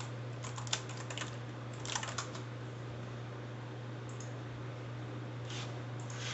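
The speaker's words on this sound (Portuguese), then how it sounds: "Vamos digitar aqui tutorial." Quiet typing on a computer keyboard, short scattered bursts of light key clicks over a steady low electrical hum, with no talking.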